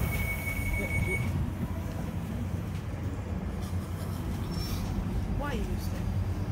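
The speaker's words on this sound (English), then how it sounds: "The train is about to depart." London Underground tube train departing, with a continuous low rumble, a faint whine and a brief wheel squeal, heard from inside the carriage as people talk.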